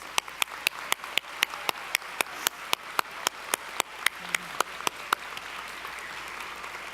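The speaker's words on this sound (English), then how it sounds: "Let's give them all a round of applause." College commencement ceremony crowd gives a round of applause. Crisp, evenly spaced claps ring out close to the microphone over a softer wash of distant clapping, and the sound fades in the last couple of seconds.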